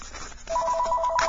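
A telephone ringing close by indoors, starting after a short quiet stretch and continuing as a steady electronic warbling ring to the end.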